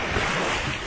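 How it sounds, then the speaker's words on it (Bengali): Strong waves on the Raimangal river in the Sundarbans surge and wash steadily, a dense close rush of water churned by wind with constant roar and no voices. "রায়মঙ্গলে কুলে এসেছিলাম, কিন্তু প্রচণ্ড ঢেউ"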